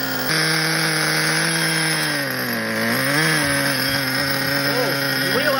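Engine of a 1985 Kyosho Integra Vanning 4WD RC car runs with a high, buzzing, chainsaw-like whine that rises and falls with throttle blips, steady and close throughout.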